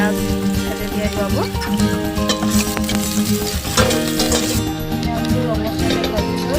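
Onions fry steadily in hot oil with whole cumin and dried red chillies for an Assamese duck curry, a continuous close sizzle with stirring scrapes, under a person talking.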